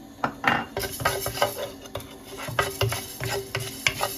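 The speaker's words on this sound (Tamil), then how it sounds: "இப்போ இதே சட்டியில் இந்த வெந்தயத்தை கொட்டி வறுக்கிறேன்" Fenugreek seeds dry-roasting in a pan for lime pickle, stirred briskly with a utensil that scrapes and taps the metal in quick irregular strokes over a faint sizzle, close up with no talk.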